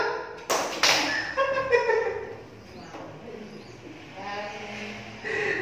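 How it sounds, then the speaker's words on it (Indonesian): A classroom of students claps once together, giving a sharp burst with a quick echo-like second hit, then a teacher's voice talks over a quiet room. "Tepuk satu."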